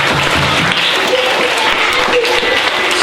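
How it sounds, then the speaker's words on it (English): Audience applauding at a children's primary-school poetry showcase, a loud, continuous burst of many hands clapping that holds steady for the whole moment. "Give him a big round of applause."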